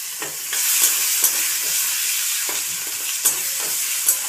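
Panch phoron spice mix sizzling in hot oil while cooking a shrimp and water lily stem chorchori: a steady loud fry hiss with sharp crackles and pops scattered throughout, close by.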